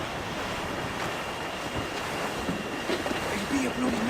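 A sailing ship moves through shallow water in the video game Assassin's Creed IV: Black Flag, with a constant rushing wash of waves and wind that swells slightly toward the end.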